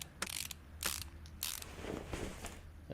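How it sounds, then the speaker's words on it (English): Screws being ratcheted onto a drive shaft in Car Mechanic Simulator, a run of quick mechanical clicking bursts with short pauses between, moderately loud and close, with no talk over them. "So we'll go ahead and get all the screws back into that."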